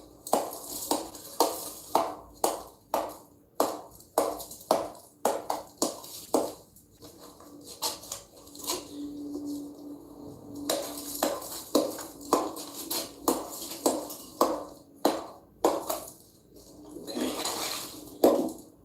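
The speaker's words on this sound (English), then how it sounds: "I use a hammer to get it out." A hammer strikes frozen ice in a metal pan again and again, sharp clanking knocks in uneven bursts with short pauses between, close by and loud.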